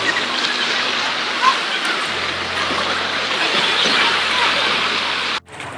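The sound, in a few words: floodwater flowing from Mayon volcano at Cagsawa Ruins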